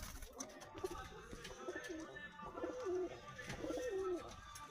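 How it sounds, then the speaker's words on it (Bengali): Several pigeons coo in repeated low, rolling phrases, close by, with faint background noise between the calls. "আমার বাড়ির পায়রাগুলো,"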